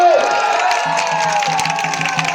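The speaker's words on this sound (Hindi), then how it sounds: "आपकी तालियों का शोर दिल्ली तक जाना चाहिए" A political rally crowd in Jharkhand cheering and clapping, a loud, continuous roar of voices with rhythmic claps and shouts, steady over a couple of seconds.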